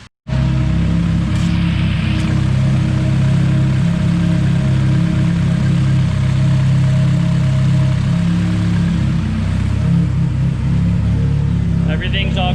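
A Nissan S14 with a KA24DET engine idles steadily during a power steering bleed, giving a constant mid-pitched hum and rumble, with a person speaking over it.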